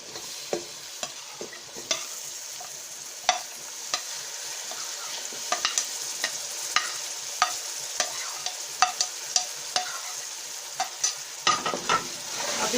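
Potatoes for a mixed vegetable curry frying in a pan, a bright continuous sizzle with frequent quick clinks and scrapes of stirring, close up and with no voices.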